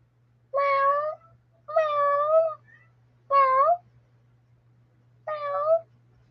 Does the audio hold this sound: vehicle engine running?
no